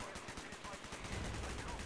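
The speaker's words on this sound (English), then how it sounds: "Shoot the lock, Mason." Gunfire in the Call of Duty Black Ops video game as a lock is shot: a dense, loud burst of rapid repeated shots blending into a continuous roar that swells toward the end.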